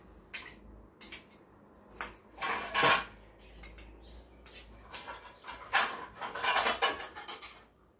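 Metal kitchen clatter as a lid goes onto a cooking pot of rava athirasam dough left to steam, with several clanks and scrapes of pots and utensils at close range, the loudest bursts near the middle and end.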